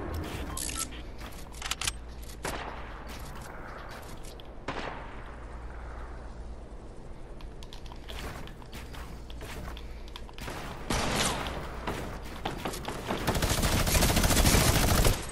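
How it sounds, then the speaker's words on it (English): Gunfire crackles in a wild west video game, with scattered single shots and short bursts over a busy game soundscape, growing louder and denser toward the end. "Everyone and their mother shooting at me right now."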